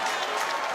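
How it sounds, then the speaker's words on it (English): Crowd cheering and applauding in a basketball arena after a three-pointer in a New Zealand NBL game between the Nelson Giants and Southland Sharks, a brief dense roar of noise. "The crowd love it."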